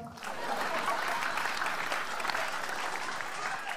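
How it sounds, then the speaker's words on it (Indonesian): A comedy show audience gives steady, continuous applause at moderate loudness, a dense even clatter of many hands with no talking over it. "Minta tepuk tangannya teman-teman semua"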